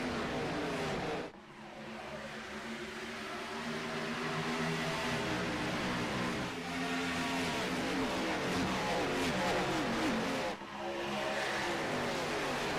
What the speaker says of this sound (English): McCarty gets a solid jump on that front row, and we're back green halfway through this race at Daytona